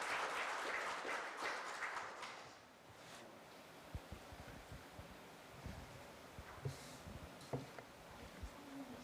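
Audience applause welcoming a vice minister to the podium at a Korean policy forum lecture, a broad wash of clapping that swells early, then thins into scattered, fainter claps and rustle.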